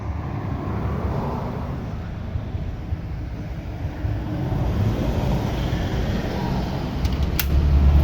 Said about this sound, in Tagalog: Mahangin ngayon guys.